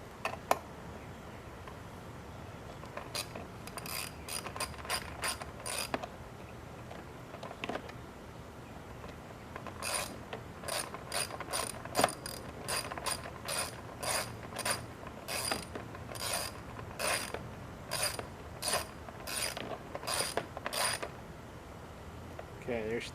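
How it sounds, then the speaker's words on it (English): Bolts on a Troy-Bilt safety cable are tightened with a ratchet, giving bursts of sharp, rapid clicking in short runs separated by pauses, fairly close over a quiet background. "What I like to do is just tighten them down till they get snug and give them like an extra quarter turn."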